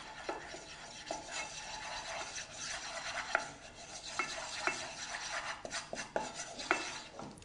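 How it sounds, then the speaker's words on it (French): Melted butter and flour are mixed vigorously off the heat for a béchamel: a quiet, continuous scraping stir, broken by sharp clicks of the utensil against the pan. "Et on mélange vivement"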